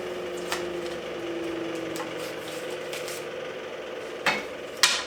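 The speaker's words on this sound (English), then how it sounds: "this bandsawing is really just to remove the bulk of the material" A bandsaw roughs out a pine chair part, with a steady droning hum and a cutting rasp, then a couple of sharp wooden knocks near the end.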